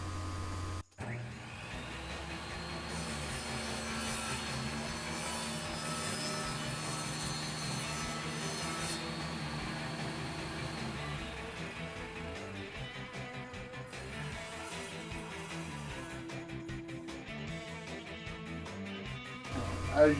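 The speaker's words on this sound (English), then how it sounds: "we're over here at my table saw where I'm hoping that this setup will allow me to straighten out this board and start cutting strips from it" A table saw rips a wooden board into strips, its steady motor whine and cutting noise running continuously and loud for about twenty seconds with a brief dip near the start and a spike at the end.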